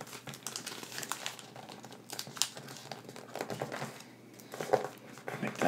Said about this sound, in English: we're going to repeat those same steps on this side. So we'll fold this edge to the middle first